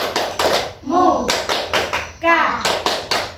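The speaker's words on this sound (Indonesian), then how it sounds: "itu tadi salah satu contoh dari tepuk pramuka" Children perform the Pramuka scout clap in unison, sharp rhythmic hand claps in quick bursts alternating with group chanting voices, close and loud.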